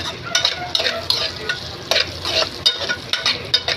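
Onion and vegetables are stirred in a hot cooking pan for a home-style chicken pakbet in coconut milk. A spatula scrapes in repeated rhythmic strokes over a steady close sizzle, and nobody speaks.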